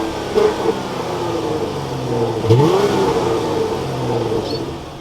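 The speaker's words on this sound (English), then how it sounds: "keeping my foot on the brake, we can go ahead and fire it up." A 2022 Dodge Charger GT AWD starts up with a rising rev sweep midway, then settles into a steady engine hum, close and fairly loud.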